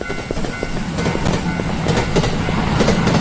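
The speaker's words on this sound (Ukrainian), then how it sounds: "А, та поїзд." A passing train in the Japanese horror game Teke Teke Moonlit Dread rolls by with a dense, rapid clatter of wheels on rail joints over a continuous rumbling roar, fairly loud and close.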